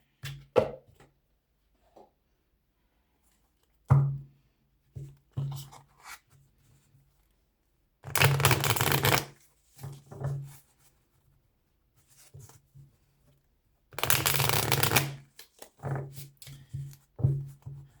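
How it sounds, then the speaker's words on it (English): Tarot card shuffling comes in two loud, dense bursts of riffling, with quieter taps, slides and handling noises scattered between them. "while I'm shuffling the cards"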